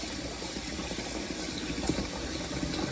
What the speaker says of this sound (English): That's the water. I had to rinse my whisk off.